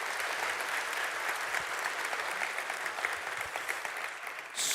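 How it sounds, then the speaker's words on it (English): Steady, dense audience applause fills a worship-style conference hall, sustained and even throughout before cutting off abruptly at the end. "give him a round of applause"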